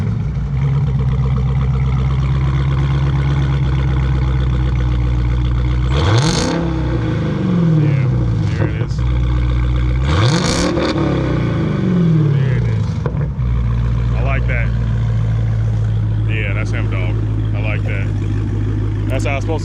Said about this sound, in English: you'll give me a quick rev too?